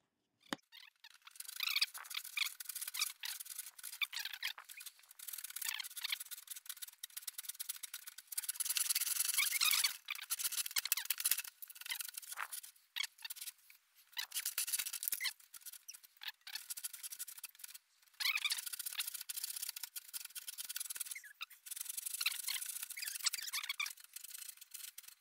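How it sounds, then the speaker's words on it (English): Hand saw cutting through wood for a homemade boot remover, a steady rasping stroke-by-stroke scrape with short pauses between bursts, close and fairly loud with no talking. "Then cut the wood."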